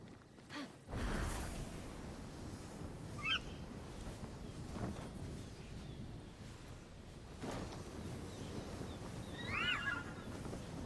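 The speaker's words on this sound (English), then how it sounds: "Looks like another horse we can tame." In the video game Immortals Fenyx Rising, a horse gives two brief whinnies, one near the middle and one near the end. Both sit under a steady wash of ambient game sound.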